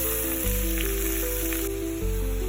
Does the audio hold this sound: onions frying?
yes